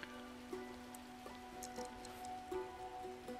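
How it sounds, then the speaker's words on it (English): Steady rain patters across the simulated city in SimCity 5, a soft even wash of drops with faint tonal game music and occasional chimes underneath, moderately quiet throughout. "why does it always rain in games that I play?"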